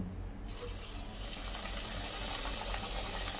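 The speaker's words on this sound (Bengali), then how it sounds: "তো এক একটা করেই তেলের মধ্যে এবার দিয়ে দেব" A luchi slipped into hot white oil sizzles in a steady, loud, hissing fry that swells slightly as it continues, with no talking over it.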